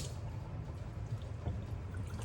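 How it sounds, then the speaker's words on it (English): Warm water pouring and trickling over a telescope mirror during a rinse, a soft, steady splashing stream that stays quiet throughout. "And I just like to warmish hot water, just give it a rinse"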